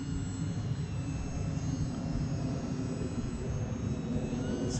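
An E-Flite UMX Cirrus SR22T micro RC plane flying at about quarter throttle, its small electric motor and propeller giving a steady, even drone at moderate distance with no pauses.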